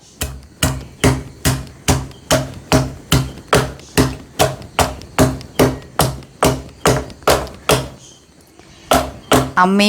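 A pounding tool crushes thick-skinned mango in a home kitchen, striking in a steady, even rhythm of about twenty loud, close thuds before a short pause and a final blow.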